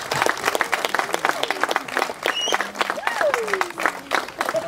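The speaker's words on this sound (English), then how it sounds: "So I think a little round of applause for all these people" Outdoor audience applause at a canal wharf restoration event, brisk continuous clapping at moderate distance, with a bird calling and faint voices in the background.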